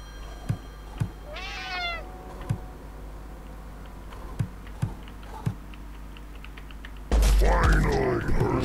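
A cat meowing in the game Friday the 13th: Killer Puzzle, one rising meow among scattered soft clicks and ticks, then a sudden loud burst of noise near the end.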